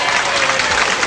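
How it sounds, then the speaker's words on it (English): A brief burst of crowd applause rises at a 1989 televised bowling match at Stones Lanes, clapping close and fairly loud with a voice mixed in. "And a nice round of applause."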